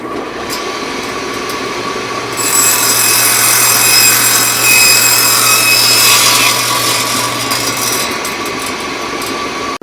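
A 1x3 wooden board being sawn to length for a sanding block, heard as one loud, continuous cut that grows harsher in the middle and then eases off, with no talking.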